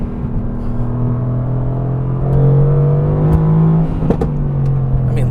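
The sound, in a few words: Mercedes-AMG GT R 4-liter engine with titanium exhaust revving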